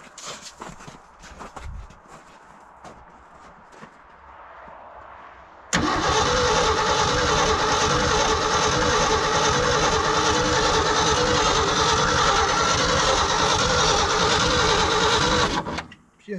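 A bumpside Ford truck engine cranks on a cold start after choke is added, with a starter grinding loudly and steadily for about ten seconds without catching, preceded by quieter shuffling and brief handling noises.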